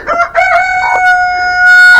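Chicks peep in high, steady cheeps, close by and loud, with a soft rustle beneath; no talking.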